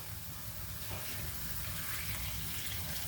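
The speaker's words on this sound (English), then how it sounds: "And now we're going to add some water to this." Water from a cup is poured into a pot of vegan spinach curry, a steady continuous splashing pour that fills the whole stretch at low volume with no talking.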